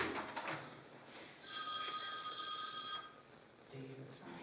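A home telephone rings with a bright electronic trill lasting about a second and a half at moderate volume during a town board meeting, with voices speaking before and after.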